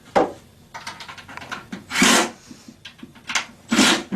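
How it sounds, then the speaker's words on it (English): Close, rough scraping and rubbing as screws are snugged up on the left and right sides of a Forevermark wood wall cabinet during assembly, with uneven strokes and no voices. "And snug up all the left and right screws."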